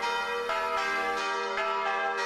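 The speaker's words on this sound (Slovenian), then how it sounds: "V Sloveniji ima vsaka še tako majhna cerkev zvonove, od 1 do 5" Bells of a small Slovenian church ring loud and close, their strikes overlapping in a dense, shimmering wash of ringing tones with no talking.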